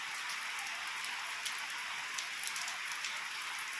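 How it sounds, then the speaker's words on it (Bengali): Country chickens clucking softly nearby as they eat tomatoes on a farm, a scattered murmur of low clucks that rises into a louder, drawn-out squawk at the end. "জোরে বৃষ্টি হচ্ছে দেখো, আমি তো হাফ ভিজেই গেলাম।"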